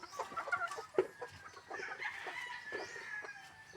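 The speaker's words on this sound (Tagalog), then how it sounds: "babaeng manok oh, yan oh. Oh. Oh, nagagalit, kinukuha kasi yung itlog eh." An agitated hen clucks and squawks at close range as her eggs are taken, with a rapid run of irregular calls over faint farmyard background.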